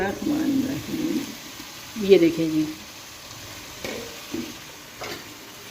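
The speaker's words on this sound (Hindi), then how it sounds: "थोड़ा सा चम्मच हिला के" A spoon stirs karela gosht curry in a pot, with soft scraping and a faint sizzle as someone talks over it.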